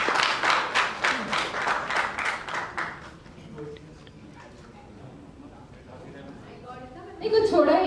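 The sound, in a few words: audience applause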